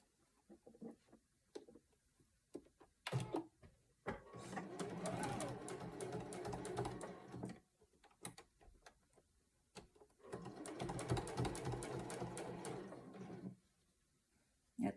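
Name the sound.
sewing machine sewing across a seam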